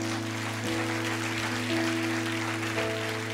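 A church congregation applauds and cheers in praise, with sustained clapping and voices heard at a distance over a steady musical drone from the sanctuary.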